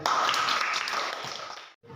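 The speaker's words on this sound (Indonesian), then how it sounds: "Kita berikan aplaus kepada kelompok 3" Classroom applause for student group 3 after their school project presentation, a dense patter of many hands clapping at close range that fades and cuts off near the end.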